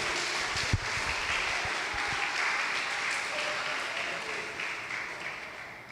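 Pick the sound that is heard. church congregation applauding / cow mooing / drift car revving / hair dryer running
church congregation applauding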